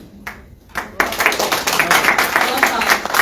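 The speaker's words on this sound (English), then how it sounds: "please join me in giving him a warm round of applause" Audience applause breaks out at a United Nations event, starting with a few scattered claps and then swelling into dense, steady clapping through the rest, with a voice heard faintly underneath.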